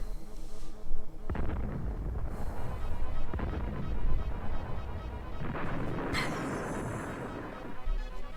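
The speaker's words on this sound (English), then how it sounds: "It was a fun little explosion effect." Explosion effect from the SNES war strategy game Super Conflict: a sustained, rumbling blast of noisy crackle that swells and rolls on for several seconds, with a brighter burst near the end and no talking over it.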